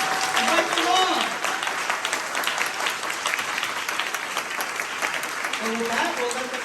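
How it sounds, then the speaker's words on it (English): Steady applause from an audience at a book reading at MOCA fills the room, with a voice talking briefly at the start and again near the end. "don't move after you give the big round of applause."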